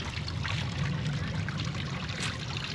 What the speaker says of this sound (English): Love all the water features that they have here.